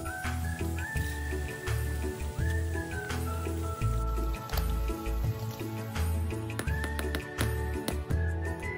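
Crisp battered nian gao frying in hot oil, lively crackling and popping like scattered droplets, close and fairly loud, with irregular bursts over a constant bubbling bed.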